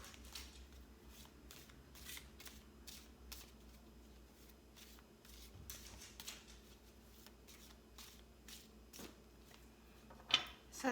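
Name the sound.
tarot cards being shuffled and drawn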